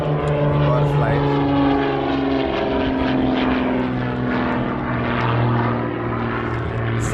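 Propeller engine of a small private training airplane at an airport in the USA, droning loudly and steadily the whole time with a constant whirring hum.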